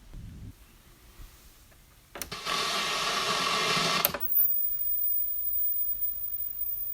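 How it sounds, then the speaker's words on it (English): A 1980s Geloso GTR-3706 portable CRT television and clock radio gives off a thin, steady, very high-pitched whine that sets in after a short burst of hissing noise and continues faintly to the end. "if the CRT whine noise bothers you too much, I'm sorry about that"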